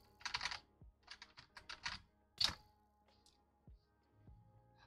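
Close computer keyboard typing during a gaming livestream, coming in uneven quick bursts of keystrokes and a few heavier key thunks, with quiet gaps between and no talking.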